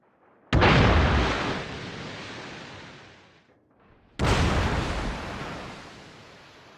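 Two heavy naval gun salvos in World of Warships, each a sudden loud boom with a long rumbling decay; the first at the start fades over about three seconds before a second blast hits.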